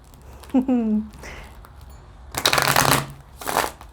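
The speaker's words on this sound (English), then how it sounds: "Let me go ahead and give a quick shuffle." Tarot cards riffle and slap together in a quick shuffle, preceded by a short vocal sound and some light handling noise.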